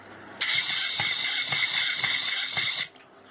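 A small motor in a solar-kit toy robot dog whirs steadily for a couple of seconds as it walks, with faint rhythmic clicking steps underneath, then stops abruptly.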